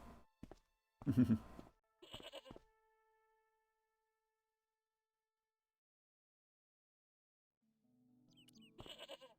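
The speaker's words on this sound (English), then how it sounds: "that's a very mean-looking goat." A goat in the point-and-click video game Broken Sword bleats in short, sharp bursts: two or three quick cries at the start, a long silence, then another bleat near the end.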